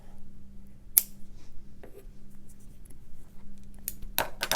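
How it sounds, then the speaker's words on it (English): Scissors snip rickrack ribbon during fabric journal crafting, a few close, crisp cuts: one sharp snip early, then a quick cluster of cuts near the end, over a low steady hum. "I'll just trim up this rickrack"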